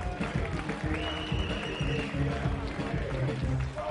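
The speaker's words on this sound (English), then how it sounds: "Round of applause" Crowd at a nightclub fight event applauding fighter Tom Haddock, a continuous mass of claps and cheering carrying through with a voice over the top.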